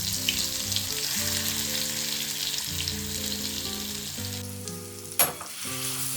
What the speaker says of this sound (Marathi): तेल छान असं तापलं की त्यामध्ये आपण तयार केलेलं वाटण टाकून घेणार आहोत